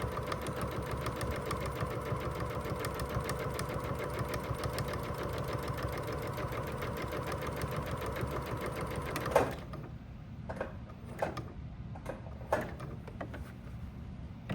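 A sewing machine backstitches the seam of a messenger bag, running in a fast steady mechanical chatter for about nine seconds, then stops and leaves a few sharp clicks and clunks as the needle and presser foot are set.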